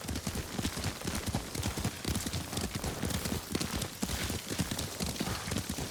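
Horse hooves clip-clop in a quick, steady rhythm during a ride in Ghost of Tsushima, loud and close throughout with a constant ambient bed behind them.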